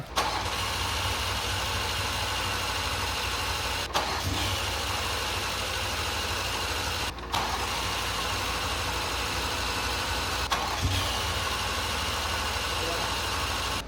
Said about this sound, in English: All right, I'll crank her up.